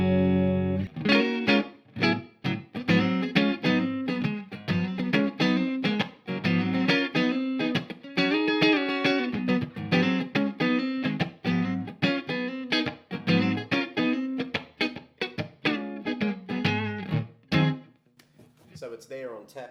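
A distorted electric guitar played through a Brookfield Tube Audio tube amplifier plays a busy, driven riff with punchy repeated chords and single notes, loud and close, ending abruptly with a brief ringing tail.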